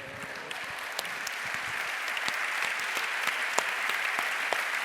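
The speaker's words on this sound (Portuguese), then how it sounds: "foi a que teve mais palmas até agora" Audience applause at a literary talk event, steady dense clapping from a crowd heard at a moderate distance, continuing evenly throughout.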